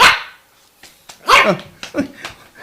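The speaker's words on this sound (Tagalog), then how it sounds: "Dakati asong agtaol." A dog gives several sharp, high barks and yips in a short irregular burst, close and loud, with whimpery tones between them.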